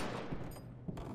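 Faint, quick bursts of gunfire in the Resident Evil 6 video game, a few muffled shots with no talking.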